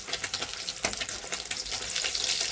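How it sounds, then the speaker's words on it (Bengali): Fish sizzles in hot oil in a wok, a loud, crackling spatter with sharp pops and bursts scattered through the steady hiss, close and without any voices. "তো দেখে নিন আমার মাছটা এবার ভালো মতো ভাজা হয়ে গেছে"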